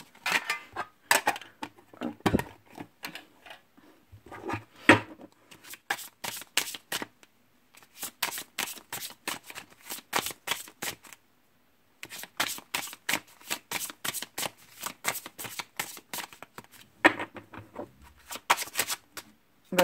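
Angel oracle cards being shuffled by hand in bursts of rapid, crisp riffling clicks, with short pauses between rounds, close and clear with no talking.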